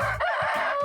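A rooster crows in a short, loud, harmonic burst, a close cock-a-doodle-doo with no talk over it.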